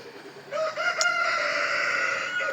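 A rooster of an ornamental chicken breed crows in a backyard coop, one long drawn-out cock-a-doodle-doo heard close and clear with little else around it.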